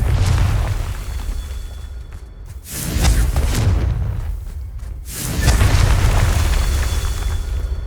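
Confringo fire spell blasts in Hogwarts Legacy: loud, heavy booming explosions with rumbling low end, two big bursts a few seconds apart over continuous battle noise, no talk.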